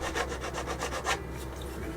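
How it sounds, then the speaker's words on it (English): A blade scrapes rhythmically along the edge of a plastic model kit part, about eight quick close rasping strokes in a row, then it falls quiet with faint handling noise. "So we're going to shave down our edge here."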